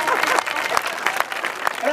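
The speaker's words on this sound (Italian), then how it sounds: "adesso hai fatto la foto, potete fare un applauso" A live audience at a comedy sketch show in Ussana claps steadily, the applause dense and close with some voices mixed in.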